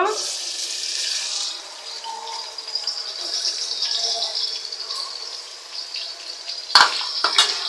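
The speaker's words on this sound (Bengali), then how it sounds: "এখন এই তেলে পেঁয়াজ ভেজে নেব" Onions fry in hot oil with a continuous bright hiss, and a sharp clatter of cookware cuts in near the end.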